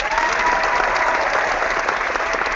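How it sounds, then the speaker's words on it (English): Steady, dense applause from a group, loud and unbroken from start to finish with no talk over it. "Give yourself some applause there."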